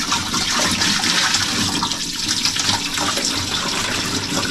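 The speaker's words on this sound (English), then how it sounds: "it'll be difficult to pour water in there" Water pours steadily into the tank of a Mini Ninja carpet cleaner, a continuous splashing, gurgling rush that stays close and loud throughout, with no talking.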